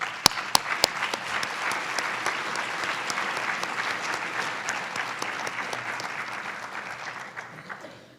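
An audience at a lecture applauds the program founders, a few sharp near claps opening into steady, even applause from a large crowd that fades gradually toward the end.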